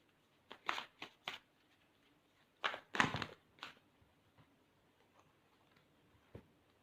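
Tarot cards are shuffled and drawn in a few short, close riffling bursts with pauses between them, followed by a faint single card snap.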